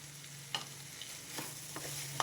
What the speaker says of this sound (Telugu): ఇదంతా ఒకసారి కలిపేసుకొని ఇప్పుడు స్టవ్ ఆఫ్ చేస్తున్నా